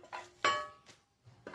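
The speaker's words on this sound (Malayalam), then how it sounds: "കുനുകുന അരിയുക ചക്ക വറക്കാൻ" A few sharp knife strokes against a board as jackfruit is finely chopped for frying, close and distinct with short pauses between cuts.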